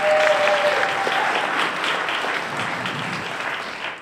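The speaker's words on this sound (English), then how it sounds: "give yourself an applause first for that" Loud, continuous audience applause at a theater benefit event, dense clapping that holds steady and then begins to fade at the end.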